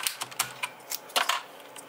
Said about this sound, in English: You can hear a much noticeable clackier sound, that's it smacking the, the bottom of the switch here.